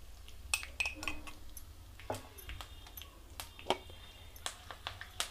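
Steel spoon clinking against a bowl while chili powder is mixed into tomato pachadi, a series of faint, irregular metallic taps and scrapes heard close up in a quiet kitchen.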